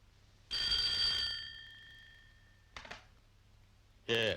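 A telephone bell rings in a few bursts, a long ring followed by two shorter ones, against a quiet background.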